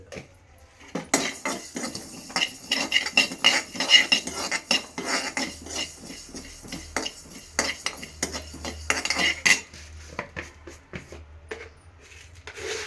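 Mustard seeds and cumin being stirred in a pan for a fish curry, with a busy run of close metallic spoon scrapes and clinks against the pan and a faint crackle underneath, continuing steadily throughout.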